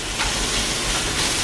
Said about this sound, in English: so I'm just, you know, frying it up on the stove, giving it a little toast